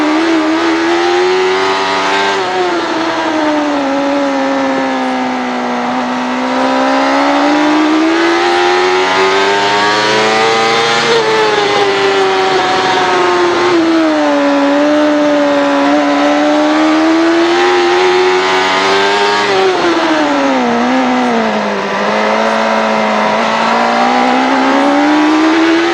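Superbike motorcycles, including a Ducati, racing at Brainerd International Raceway in a 2004 AMA Superbike Championship round, with loud continuous engine howl rising and falling in pitch as the bikes accelerate and brake, close and sustained throughout.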